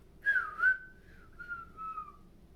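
A person whistles a short tune, two quick rising chirps followed by a long, gently wavering sustained note, clear and close.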